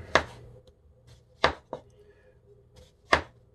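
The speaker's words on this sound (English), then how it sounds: "I'll take this little tomato" A knife slicing through a small tomato on a cutting board, four crisp chops spaced unevenly, close and clear with quiet pauses between.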